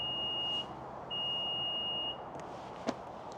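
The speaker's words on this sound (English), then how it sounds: "push and hold this button until you hear those beeps again" A 2024 Nissan Pathfinder Ti's power tailgate sounds two long, steady electronic tones as its height is reset, separated by a short pause, over a quiet background, followed by a faint click.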